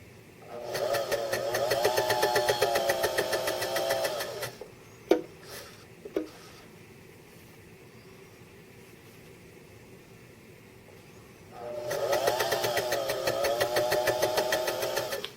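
A needle felting machine runs over fabric while bonding fibers for a pincushion: two bursts of steady, rapid mechanical whirring and punching, close and fairly loud, separated by a quiet stretch with a couple of sharp clicks.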